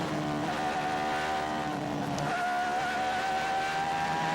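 Formula One car from the 1988 season braking hard into the double-apex Spoon curve, engine note dropping in long continuous harmonic whines, then pitching up again under acceleration, loud and close with faint tyre noise.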